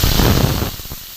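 Garlic and pea pod paste hit hot oil in a pan, a loud dense hiss of frying that crackles steadily and eases slightly toward the end, with no talk.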